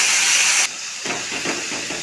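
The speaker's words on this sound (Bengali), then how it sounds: "এই তেলেতে দিয়ে দেবো তেজপাতা, গোটা জিরে, শুকনো লঙ্কা, কেটে রাখা টমেটো কুচি" Bay leaf, whole cumin, dried chilli and chopped tomato go into hot oil with a loud hissing burst that cuts off abruptly. A quieter, crackling sizzle follows with small stirring sounds.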